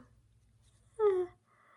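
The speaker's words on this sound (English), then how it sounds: "I am going to be yawning a lot, like right now." A single brief, breathy yawn with a falling voiced tone, close and fairly quiet, surrounded by near silence.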